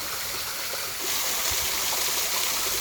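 A small waterfall cascades near old stone oil and flour mills, giving a constant close hiss of falling water that grows a little louder partway through, with no voices.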